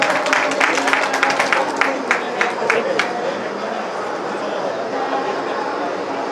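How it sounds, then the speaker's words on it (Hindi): Audience clapping for the teachers at an annual gathering and lecture training camp, a dense, steady burst of applause that thins and fades after a few seconds, with crowd noise beneath it. "जोरदार ताली हमारे गुरुजन के लिए।"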